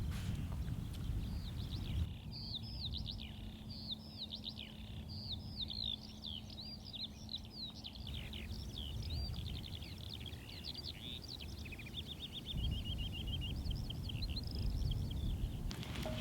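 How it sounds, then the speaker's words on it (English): Several birds chirp and trill in quick overlapping phrases beside the River Thames over a soft, constant outdoor hiss, fairly faint and a little distant, with no voices. "Yeah, just the sound of the birds, really."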